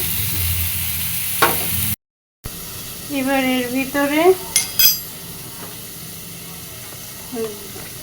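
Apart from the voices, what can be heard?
frying food in a pan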